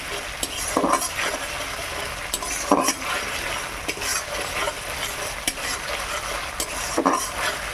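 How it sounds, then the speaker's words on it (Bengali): Ginger, garlic, onion and tomato paste fries in a pan, a steady close sizzle broken by repeated sharp clinks and scrapes of a spoon stirring against the metal pot. "এবার আমি হালকা আছে ভালো করে মশলাটা ভেজে নেব।"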